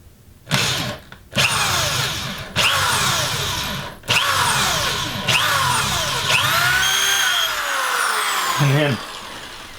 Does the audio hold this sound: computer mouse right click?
no